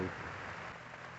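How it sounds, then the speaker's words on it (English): Soft, steady hiss of light, cool rain falling at a campsite, even and continuous, fairly quiet with no voices. "It's just a nice cool rain."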